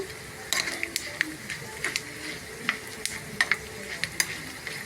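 Beetroot halwa fries and sizzles in a pan under a steady hiss, with repeated light stirring scrapes and spoon clicks spread through the clip, close and moderately loud.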